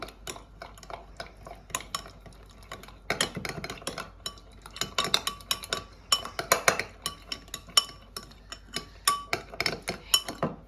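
Food being mixed with a utensil in a dish after a pinch of salt is added, with repeated clinking scrapes against the bowl in an irregular rhythm, close and moderately loud, with no voices.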